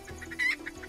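Chickens cluck in Minecraft, with short soft clucks repeating at an uneven pace and one sharper squawk in the middle, all near and moderately quiet.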